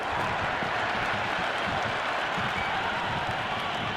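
A cricket stadium crowd roars in a dense, steady wash of cheering and applause after a boundary in a PAK vs SA T20 semi-final, loud and sustained throughout with no talk.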